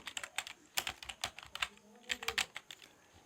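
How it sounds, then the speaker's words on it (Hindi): Someone types on a computer keyboard while entering a comment in Microsoft Word 2016. Close, crisp keystrokes come in quick irregular bursts with short pauses between them, and no voice is heard. "यहाँ पे कमेंट मैंने टाइप कर दिया"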